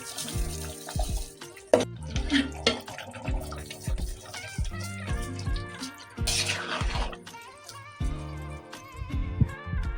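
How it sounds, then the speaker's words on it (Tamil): Water is poured into rice for chicken green biryani, a close, bubbling, splashing trickle with drips and clinks of vessels, continuing unevenly throughout. "ஸோ நம்ம 4 கப் வாட்டர் ஆட் பண்ணிக்கலாம்."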